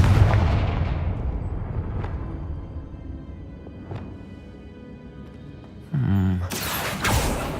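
Confringo fire spell blast in Hogwarts Legacy, a heavy booming explosion that rolls off and decays over several seconds, followed by a second burst of crackling effects near the end.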